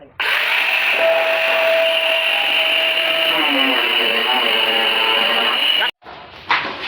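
Angle grinder fitted with a cutting disc runs steadily and loud for about six seconds, its whine wavering as it cuts into material, then cuts out abruptly before a brief restart; a voice can be heard faintly.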